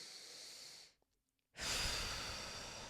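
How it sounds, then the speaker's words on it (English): A single deep breath drawn in slowly and released in a long, soft, airy exhale, close and alone, with a brief quiet pause between the inhale and the breath out. "Deep breaths."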